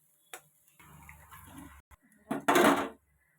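Eggs cracked into a pan for vegetable fried rice: a sharp tap, a quiet stretch of small kitchen sounds, then a louder crackling burst as they hit the hot pan.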